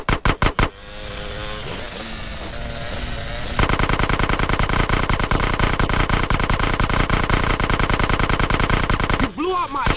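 Automatic gunfire in GTA San Andreas rattles right beside the listener. A few sharp single shots come first, followed by a long, rapid, deafening burst of continuous fire that cuts off near the end.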